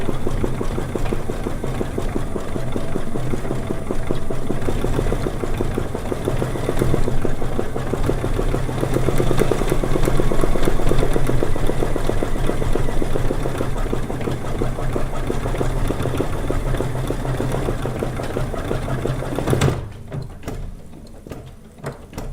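Sewing machine stitching a quilt block, a steady continuous motor whir with fast needle chatter running nearly unbroken, then cutting off abruptly near the end into quiet room noise.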